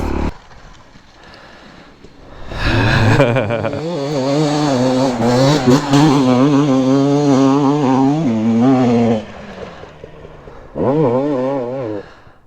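A Honda CRF 450 dirt bike ridden enduro-style roars close by, its engine pitch climbing and wavering through repeated revs, dropping off briefly before another loud burst of throttle.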